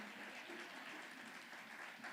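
Applause from a church conference audience, a steady dense patter of many hands clapping throughout, fairly faint and distant, with no talk over it.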